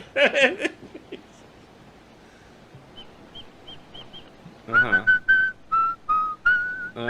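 A short laugh, then a series of whistled notes: a few faint short tweets followed by louder, sustained whistled tones in a halting melody.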